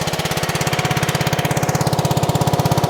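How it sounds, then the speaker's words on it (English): Small gasoline engine on a pressure washer running at idle with a fast, steady chugging pulse, loud and close, with no one talking. "As you can see, it starts,"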